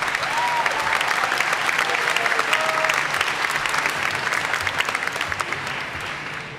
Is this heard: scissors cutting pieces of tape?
no